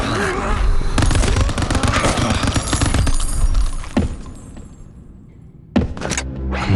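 Gunfire in a dark video game cutscene, a dense, loud stretch of shots and impacts with a sharp burst near the end, set under a dramatic score.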